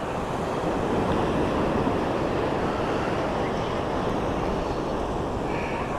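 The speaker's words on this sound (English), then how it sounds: "Listen to the waves coming in from the ocean, or from the bay" Steady surf rolling in from the Gulf of Mexico at Clearwater Beach on a chilly evening, a continuous broadband wash of breaking waves with some wind noise, no voices.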